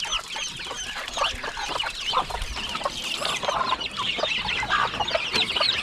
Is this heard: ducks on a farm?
yes